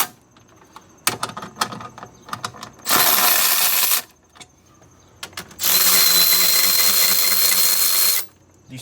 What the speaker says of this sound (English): these 2 bolts are 16 millimeters. I have them loosened, so I'm going to take them off right now.